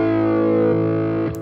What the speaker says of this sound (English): Lovely flanger here.